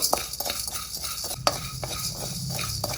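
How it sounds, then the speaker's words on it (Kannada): Coriander seeds and chana dal dry-roasting in a pan over low flame, with scraping stirs and occasional clinks of a utensil against the metal, a faint crackle underneath, no talking. "ಧನಿಯಾ ಕಾಳು ಕೊತ್ತಂಬರಿ ಕಾಳು ಲೋ ಫ್ಲೇಮಲ್ಲಿ ಇಟ್ಕೊಂಡು ಹುರ್ಕೊಳ್ಬೇಕು"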